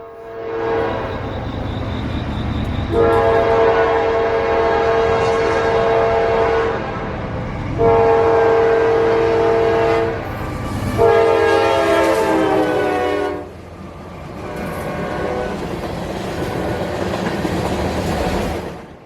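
A Norfolk Southern southbound intermodal freight train 215, running from Chicago to Atlanta, sounds three long, loud horn blasts over a steady rolling rumble of rail cars, then keeps rumbling past after the horn stops.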